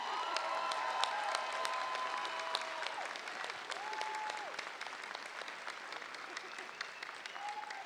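Sustained applause from a convention crowd at a comic con panel, steady dense clapping throughout with some voices and a whistle-like tone rising over it.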